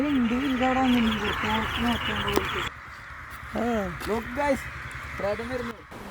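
Several crows caw repeatedly in short harsh bursts, fairly close, over a noisy outdoor background, with scattered calls overlapping.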